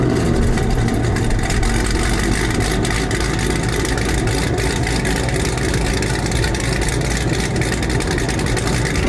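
A Chevrolet Camaro engine, with switchable stealth and track exhaust valves, runs loud and close in a steady, dense rumble that holds for the whole stretch, with no talking.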